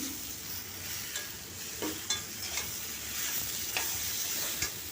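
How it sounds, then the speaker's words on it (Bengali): Mango pieces fry lightly with sugarcane jaggery in a pan, producing a soft, even sizzle with intermittent scraping and stirring taps, fairly quiet and close, with no one talking. "এটাকে আমি হালকা ভেজে নিচ্ছি"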